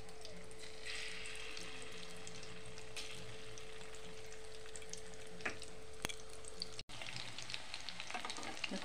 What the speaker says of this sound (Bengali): এখন আমি একে একে চিকেনগুলি ভেজে নেব।